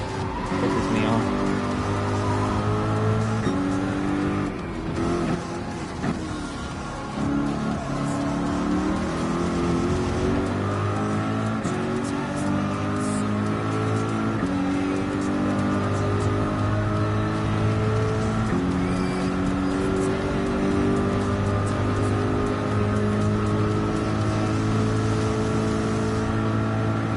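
Race car engines roar on a track in the Gran Turismo 7 video game, a loud, continuous drone with pitch climbing and dropping through gear changes, plus occasional tire squeal.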